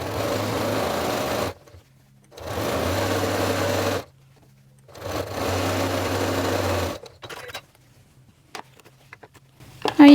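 A sewing machine stitches a seam on a quilted table runner. Three steady whirring runs of about one and a half seconds each are separated by short pauses, ending in quiet handling noises.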